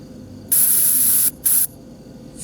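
Bear spray from a can in the video game Fears to Fathom, two loud hissing bursts, a long one followed by a short one, over a quiet background.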